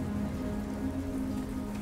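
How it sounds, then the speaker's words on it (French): Steady rain falling on surfaces in the video game Starfield, a continuous even patter with a low hum beneath and no talking. "Ah, il pleut. Première fois qu'on a la pluie"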